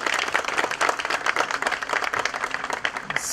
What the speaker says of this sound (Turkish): Ve büyük bir alkış istiyorum sayın başkanımıza.